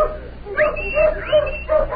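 Hounds in a radio drama scene give a string of short yelps and barks that rise and fall, close and loud, with faint voices in the background.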